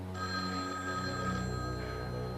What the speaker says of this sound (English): Maybe the last phone call you ever take.